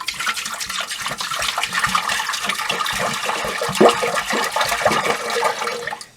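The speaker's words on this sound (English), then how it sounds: "And then I'm going to push the flush lever." A toilet flushes in a cottage being winterized, a close, continuous rush and gurgle of water that swells and then drains away abruptly near the end.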